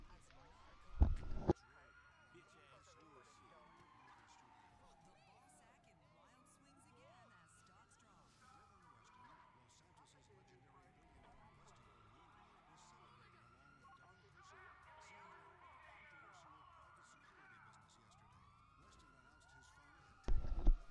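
Video game police car sirens wail in rising and falling sweeps, fairly faint and continuous, with sharp loud thumps at the start and end.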